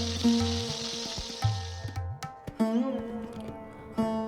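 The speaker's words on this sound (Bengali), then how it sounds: "এবার উল্টে পাল্টে সব মাছগুলো ভালো করে ভেজে নিচ্ছি।" Parshe fish frying in oil in a wok as the pieces are turned, with a soft sizzle under clinks and knocks of utensils against the pan.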